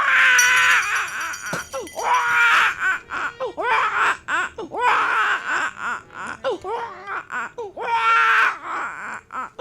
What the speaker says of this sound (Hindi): कोई बच्चा रो रहा है। बच्चे के आवाज है।